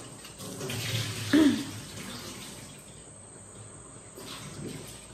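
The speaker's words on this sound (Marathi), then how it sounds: "कोलंबी धुवायला घेतले." Prawns washed by hand under a running tap, a steady hiss of flowing water with a few splashes and knocks, backed by a continuous high insect chirp.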